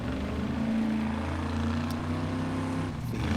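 A steady mechanical drone propeller hum with a constant pitch, fairly loud and unbroken, with no voices, over a dusty, dry Formula Offroad course.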